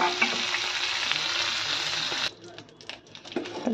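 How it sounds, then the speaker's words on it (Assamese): Peas fry in oil left over from frying paneer, a dense crackling sizzle close to the pan that abruptly drops to quieter intermittent hiss and clatter partway through, with no talk. "পনীৰ ভজা তেলতে গোটেই হেৰিখিনি দি দিছোঁ"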